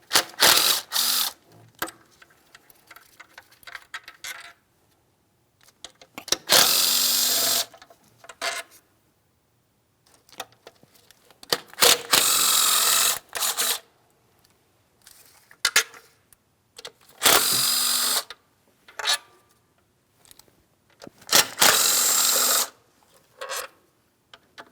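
Bursts of ratcheting from a tool backing out bolts on the upper plastic intake manifold of a Ford Edge 3.5L V6, several separate runs of clicking spread across the clip with quiet pauses between, close up and with no talking.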